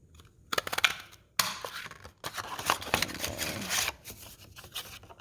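Craft paper punch cutting through card, a few sharp crunching snaps spaced out between quieter rustling and handling of the card, close up and fairly faint.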